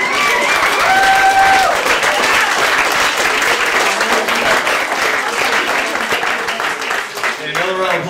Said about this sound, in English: And another round of applause for Diogo